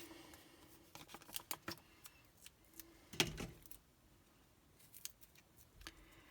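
Scissors snipping paper while a handmade shaker card is being made, heard as a series of quiet close crisp cuts and rustles, with one louder snip in the middle.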